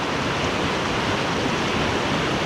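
Clear Creek near Salida, Colorado rushes steadily, a close, constant broadband roar of flowing water with no breaks or voices.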